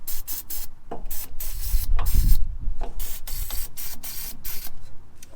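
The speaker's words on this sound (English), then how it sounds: "I'm going to spray with some PB Blaster on the top here" Repeated short bursts of penetrating oil from an aerosol can onto the rubber exhaust hangers of a 4th-generation RAM 1500, close and crisp, with a low mechanical rumble in the middle.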